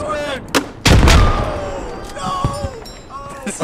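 A grenade explodes in a squad shooter game with a loud, booming blast near the one-second mark that decays over about a second, surrounded by smaller impacts and players talking over the action.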